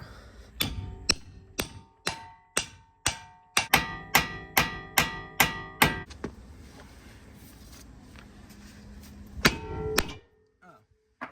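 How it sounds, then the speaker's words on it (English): A hammer strikes a car's inner tie rod and suspension angle kit parts about a dozen times in a steady rhythm, sharp ringing clanks close by, then a pause and a few final blows. "After much hammering, I just turn it this way, smack it 2 times"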